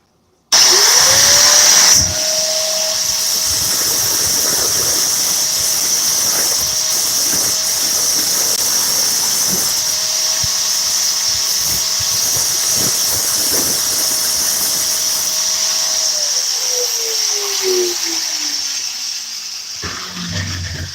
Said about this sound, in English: I'm gonna use the grinder